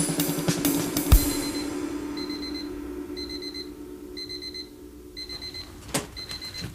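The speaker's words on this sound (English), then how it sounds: "That's exactly the sound of my partner's alarm clock." An alarm clock's electronic beeping closes a song: evenly spaced pairs of high beeps repeat about once a second, moderately loud over fading music, with a couple of sharp clicks.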